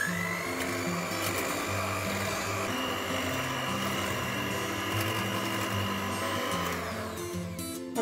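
An electric hand mixer whirs continuously at close range, beating sugar added bit by bit into cake batter with vanilla essence, a steady motor whine with rhythmic beater clatter throughout.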